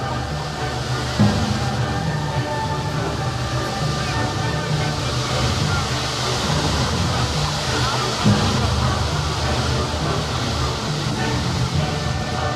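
Iguazu Falls in Argentina roars as a boat pushes in toward the plunging water: a dense, unbroken wall of loud rushing noise that holds steady throughout, with a couple of slight surges.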